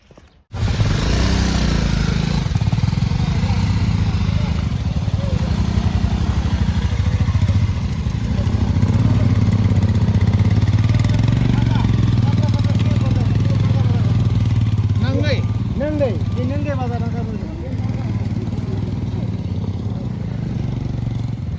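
A motorcycle labours along a rough, broken mountain road between Mangan and Lachung in North Sikkim, its engine droning and revving steadily with rattling clatter, close up, while people talk intermittently over it.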